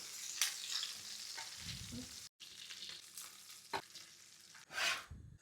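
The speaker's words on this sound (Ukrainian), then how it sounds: "сюди ми відразу додаємо смажитись цибулю і додаю моркву" Chopped onion and carrot sizzle in a frying pan still hot from browning meat, a crackling fry broken by scraping stir strokes and clinks, close and fairly quiet.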